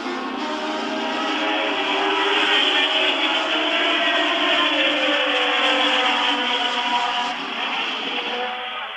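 A dense, continuous engine roar from Formula One cars at the 1977 German Grand Prix fills the clip, high-pitched and loud, with pitch sweeping gradually as cars race past.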